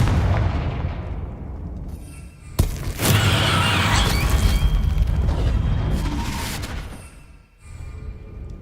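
In Hogwarts Legacy, a Confringo blasting curse sets off a sharp crack followed by a loud, booming explosion that rolls on for several seconds over faint game ambience.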